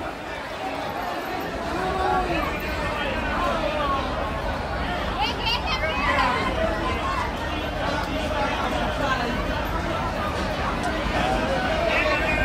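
A packed crowd at Bhaucha Dhakka, Mumbai's wholesale fish market, makes constant loud babble of many overlapping voices, with footsteps and bustle close by and someone talking over the din.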